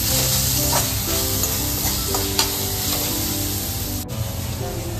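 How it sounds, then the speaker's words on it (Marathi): Carrots fry in ghee until golden, a loud, steady, dense sizzle close to the pan that carries on unbroken, with a few faint stirring clicks underneath and no talk. "गाजरचा रंग चेंज होईपर्यंत त्याला फ्राय करायचं गोल्डन टाईप"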